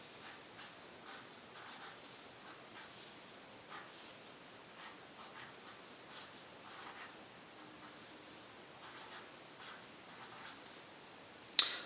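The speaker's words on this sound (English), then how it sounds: "I'm going to write out the terms first, and then I'll write in the actual multiplication." A pen writes out math terms by hand on paper, producing soft, quiet scratching strokes in irregular bursts, ending with a sharper tap.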